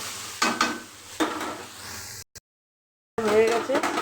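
Peas being stirred in a hot frying pan, with sizzling and the scrape of a spoon in short bursts, then a sudden gap of silence before louder sizzling returns; a voice speaks over parts of it.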